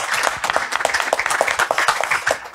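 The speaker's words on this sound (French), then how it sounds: "On peut les applaudir, s'il vous plaît." A conference audience applauds steadily as speakers are called to the stage, dense clapping at close range and fairly loud throughout, with no voices over it.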